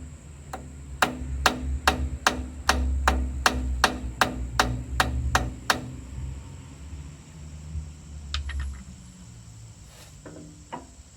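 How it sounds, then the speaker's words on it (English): A hammer taps a metal key into the key slot of a tractor steering wheel about a dozen times in a steady rhythm, then a few lighter, scattered taps follow after a pause. "Have to tap it in with a hammer."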